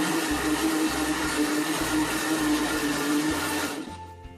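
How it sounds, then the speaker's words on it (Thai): A blender whirs continuously, mixing mayonnaise salad dressing with sweetened condensed milk, a loud steady motor drone with a slightly pulsing churn that winds down and stops near the end. "แล้วก็ปิดฝาปั่นเลยนะคะ ปั่นให้เข้ากันนะคะ"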